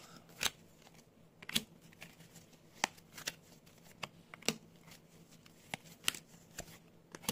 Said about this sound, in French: À l'heure où je tire les cartes.